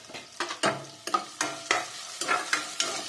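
Whole spices, poppy seeds and cashews frying in oil for parotta salna, close sizzling with sharp, quick stirring scrapes roughly every half second, no speech.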